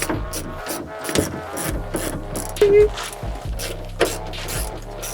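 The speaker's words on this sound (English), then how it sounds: "Try a 17 spanner." A 17 spanner clicks in short ratcheting bursts while turning a coilover bolt on a Mitsubishi Evolution 7, a rapid series of close mechanical clicks with a couple of metallic knocks.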